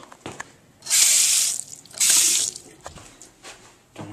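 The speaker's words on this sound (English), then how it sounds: "I'm gonna do the sinks now." A bathroom sink faucet is turned on twice in quick succession, each time a short, loud hiss of running water lasting about half a second, with faint knocks and handling noises in between.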